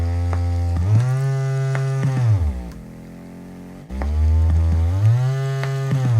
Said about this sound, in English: so that my sawtooth waveform that was cut on the vinyl record would reach a higher or lower musical pitch